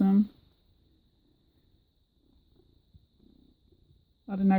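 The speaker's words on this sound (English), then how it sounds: "I don't know if you can hear him purring now." A cat purrs softly and low, close by, in a quiet stretch bracketed by brief speech at the start and end.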